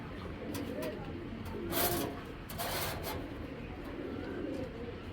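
Pigeons, a male and a released female, coo softly in low, repeated murmurs amid scraping and rustling noises close by, with no speech.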